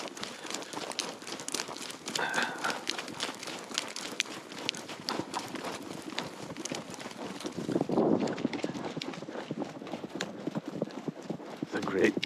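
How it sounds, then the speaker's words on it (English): An Icelandic horse's hooves clip-clopping on a trail, a rapid, close, steady patter of crisp strikes with rustling around it, while people talk over the hoofbeats. "It's a great clip-clopping sound on the trail right now."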